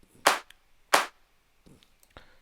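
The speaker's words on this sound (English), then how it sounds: "I use this pre-clap kind of thing, which kind of gives a swooshing effect before the claps comes in" Two sharp, bright claps from a tech house track stand alone, spaced under a second apart. Softer clap hits follow, and a brief, faint rising swoosh leads into the final one.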